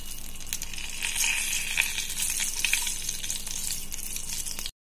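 A bay leaf and whole spices fry in hot oil with a continuous close hiss and crackle, alone and with no talk, before a sudden cut to silence.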